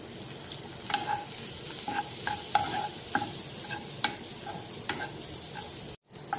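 Turmeric and green chillies frying in a pan with spice powder, a continuous soft sizzle punctuated by repeated spoon scrapes and taps against the pan, near and moderately quiet, ending after a short cut.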